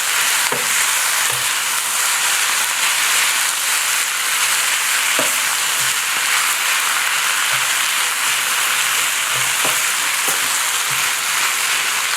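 Stir-frying chow mein or fried rice with soy sauce, sugar and sesame oil in a hot pan: a loud, constant sizzle with occasional clanks and scrapes of utensils against the metal.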